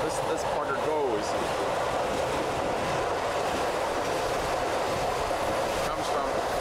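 Passenger express train on a 1991 run through the High Tatras toward Karlovy Vary, a steady rolling rumble of wheels on rails heard from inside the car, with a voice speaking over it.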